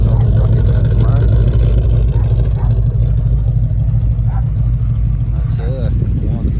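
A V8 in a VK Dodge ute idles with a deep, loud, rumbling burble that stays steady and close throughout, with a voice speaking briefly over it.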